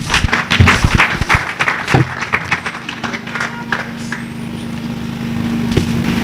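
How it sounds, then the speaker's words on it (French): Scattered audience clapping at an art exhibition opening in Lubumbashi bursts out in uneven claps and thins to a few stray claps over a low steady hum. "Sous vos applaudissements, mesdames et messieurs."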